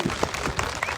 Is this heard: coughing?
no